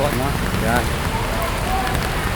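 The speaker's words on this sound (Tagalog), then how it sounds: "Tsaka sa patuloy na buhos ng ulan." Heavy rain pouring steadily during ongoing flooding beside Pedro Hill, a dense, continuous hiss of downpour on surfaces heard close, with someone talking over it briefly.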